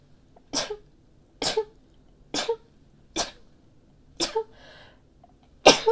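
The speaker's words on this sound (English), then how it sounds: "Ooh, I feel like I'm gonna sneeze." A person sneezes six times in a row, sharp close bursts spaced about a second apart in a quiet room, with no talking.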